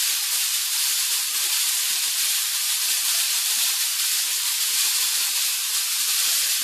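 Hamburger patties sizzle steadily in a pan, a constant bright hissing fry that stays close and even throughout with no pauses, faint low pops scattered underneath.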